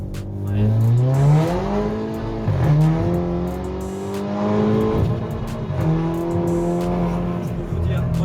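A Golf GTI with a stage 1 tune revving hard, engine climbing in pitch repeatedly with gear changes, loud and close, with people talking over it.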